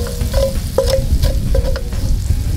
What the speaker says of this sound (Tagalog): So gisa lang natin yung sibuyas